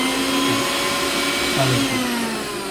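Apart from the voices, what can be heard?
electric mixer grinder running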